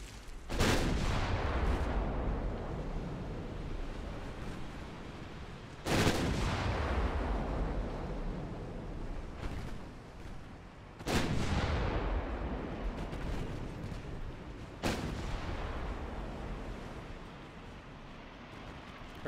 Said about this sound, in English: Huge hit from the 6-inch guns of the light cruisers.